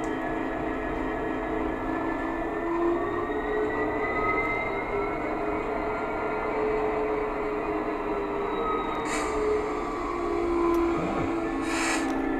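Steady mechanical engine drone of a model Class 66 diesel locomotive sound system, with a continuous low rumble and sustained tonal hum, joined near the end by brief higher bursts of hiss.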